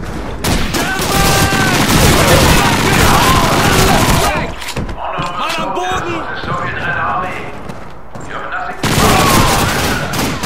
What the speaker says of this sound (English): quit throwing all these grenades in here